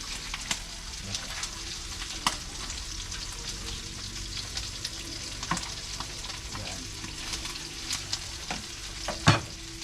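Bihon rice noodles with long-cut onions being tossed in a hot pan: a continuous sizzle with repeated scraping stirs and occasional sharper clatters of utensil against metal, with no one talking.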